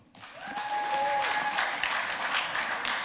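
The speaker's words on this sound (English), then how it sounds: "Give him a round of applause." Steady applause from a crowd fills the room, sustained and fairly loud, with a few whistle-like tones rising briefly near the start.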